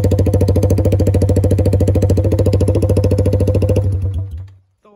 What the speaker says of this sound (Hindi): बैंड पाइप का भी एक बार साउंड सुन के ही देख लेते हैं कैसा साउंड आता है।